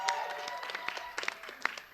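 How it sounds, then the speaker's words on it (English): Scattered audience clapping at a fan expo stage in San Francisco, with sharp individual claps standing out over a tonal, voice-like background and cheering mixed in. "Huge round of applause for everybody up here on this stage."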